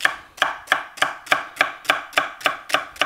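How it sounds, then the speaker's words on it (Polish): A knife chops vegetables into smaller pieces on a cutting board, the vegetables left unpeeled for a lentil goulash. About ten crisp, evenly spaced chops ring out close and clear with no talking. "Przekrawam na połowę i kroję mniejsze kawałki"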